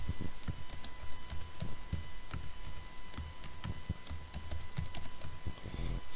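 Rapid computer keyboard typing while VB.Net code is entered, irregular close clicks and key taps running steadily throughout, with no talking.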